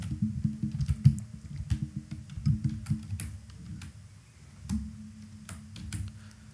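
Quick, soft clicks of computer keys as Filmora 14 is typed out, a cluster of close, light taps with short pauses over a steady low hum.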